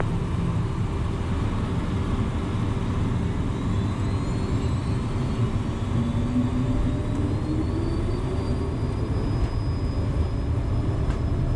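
Twin turbofan engines of a Cessna Citation M2 business jet at takeoff power in a flight simulator, a steady loud roar with rising whine tones running the whole time, no talk.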